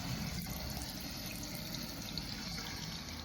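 Salmon rinsed under a steadily running tap, with a continuous broadband splash of water and a few faint clinks, close and alone with no talking.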